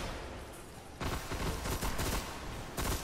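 Auto rifle fire in the video game Destiny, a rapid continuous stream of shots that begins after a quiet second, pauses briefly, then resumes in a short final burst, loud and close with no talk.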